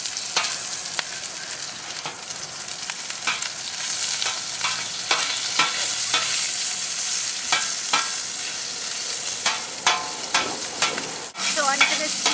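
Mild Italian sausage sears in a hot pan for paella, with a steady close sizzle and crisp clicks of a spatula stirring and scraping throughout, and no talking.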